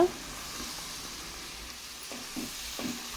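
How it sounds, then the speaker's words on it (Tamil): Tomato paste frying in oil for a tomato pickle, with a steady soft sizzle close by and a few faint scrapes and taps of a spoon stirring the pan, no talking. "சேர்த்துட்டு ஒரு தடவை நல்லா கலந்து விட்டுக்கோங்க"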